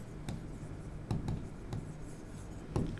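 A pen writes coordinates on paper, producing soft, close scratching strokes with a few sharper taps spaced irregularly in a quiet room.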